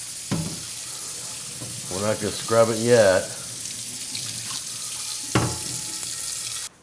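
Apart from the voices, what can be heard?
tap water rinsing cast iron pan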